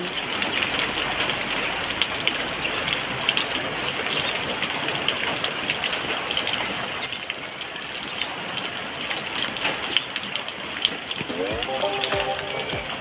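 Rain falls beside a house onto dry, parched soil and garden plants, a loud, dense and continuous wash of water that holds steady throughout.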